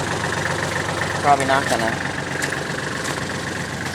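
An Allis-Chalmers tractor engine idles steadily nearby with a low, even chug while someone talks over it.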